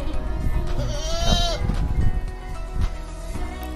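A young male long-eared Kaligesing goat bleats a few times, wavering cries rising over a busy farmyard background while people talk nearby.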